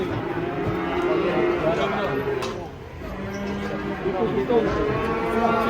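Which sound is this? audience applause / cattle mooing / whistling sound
cattle mooing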